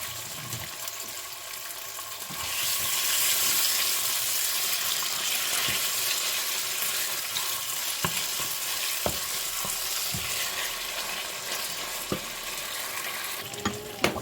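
Beef hits a pan with a spoonful of hot oil for sautéed beef noodles, bursting into a loud, steady sizzle and crackle that swells after a quiet start and carries on unbroken, with no voices over it.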